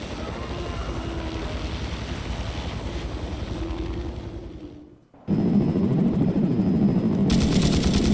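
A helicopter in The Thing: Remastered video game roars steadily with heavy rotor and engine noise, briefly dropping away before surging back loud and close.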